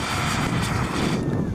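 A LiPo battery burning and venting a self-sustaining jet of flame makes a loud, continuous roaring hiss, close and steady like a blowtorch, with a person's voice faintly in the mix.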